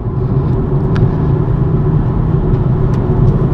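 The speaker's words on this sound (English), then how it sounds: "I'm going to change down to fourth gear" BMW M135i being driven on roads in Northern Scotland, changing down to fourth gear, with a steady loud engine rumble and road noise throughout and no clear rev blip.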